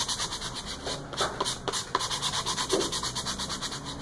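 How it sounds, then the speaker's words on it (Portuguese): Fine 400-grit sandpaper rubbed by hand over a painted felt-flower topiary craft piece gives rapid, close, rhythmic scratchy strokes, a steady back-and-forth rasp with no talking. "Agora a gente tem que vir aqui pegar uma lixinha fina, que é a lixa 400"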